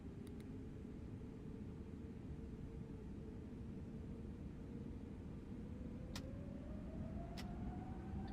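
An Airbus A321neo in a flight simulator rolls down the runway on takeoff, giving a steady, loud broadband engine roar with a slowly rising whine and no voices.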